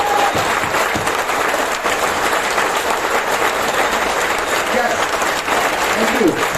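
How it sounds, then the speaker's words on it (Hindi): At a wellness company training session in Ghatkopar West, Mumbai, a standing audience gives vigorous, continuous applause for their mentor, steady and loud throughout, with faint voices mixed into the crowd noise. "जोरदार तालियां सर के लिए"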